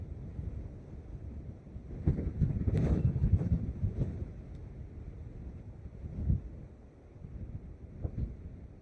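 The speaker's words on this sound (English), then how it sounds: "That's how strong the wind is." Strong gusting wind buffets the microphone at Dublin Airport, a deep rumbling roar that swells and fades in irregular bursts, loudest in a sustained gust early on, with no voices.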